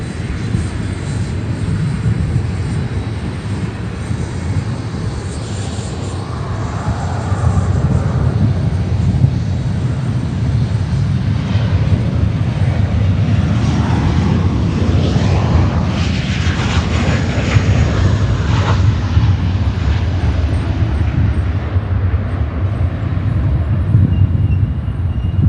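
An Atlas Air jet from Frankfurt roars at Chicago O'Hare, its engines making a loud, broad rumble that swells slightly partway through and then holds steady, with no talk over it.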